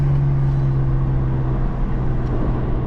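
A 2015 BMW M4 with a dual-clutch gearbox accelerates on a twisty road, its engine a steady, loud, close drone with no break and no talk.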